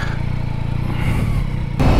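A motorcycle engine revs in short pulses close by on a rural road trip in Aveyron, rough and loud, with a sharper burst of revving at the very end.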